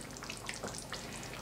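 Buckwheat with minced meat and vegetable sauce sizzles quietly in a frying pan, a soft continuous crackle and hiss with faint scattered pops and no talking.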